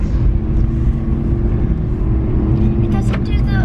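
Car being driven by a new owner learning it, a steady low engine and road rumble heard from inside the cabin, with a brief rattle or knock near the end.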